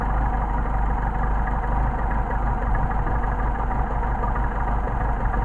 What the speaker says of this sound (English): Idle is starting to drop off.